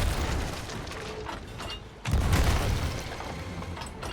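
Ship cannons fire in the pirate game Sea of Thieves, a sustained rumbling barrage of booms with a heavy blast near the middle, thick low-end roar continuing afterward amid game ambience.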